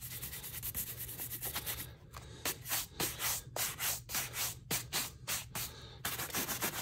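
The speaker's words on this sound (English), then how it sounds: "you spend a little bit of time just buffing it out." Grain leather shoe being buffed after a light wax touch-up, giving a steady run of brisk rubbing strokes, close and fairly loud, in a quick back-and-forth rhythm with short gaps.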